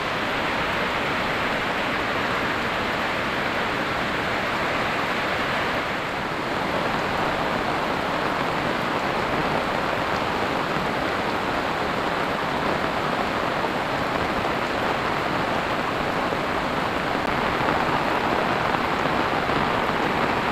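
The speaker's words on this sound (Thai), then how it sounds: "ฝนตกหนัก มืดครึ้มเลย" Heavy rain pours down steadily on a dark, overcast morning in a village, a dense and constant roar of drops on surfaces filling the scene from start to finish, with no voices.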